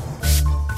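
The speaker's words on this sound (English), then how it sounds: "Run the spray bottle over the findings to wash them." Spray bottle rinsing dig findings in a kids' dinosaur excavation video game, heard as two close bursts of hissing spray over a steady low game hum.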